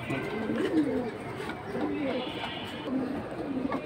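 High-flying pigeons offered for sale coo repeatedly in soft, throaty rolling calls, close by over a busy background, with someone talking over them.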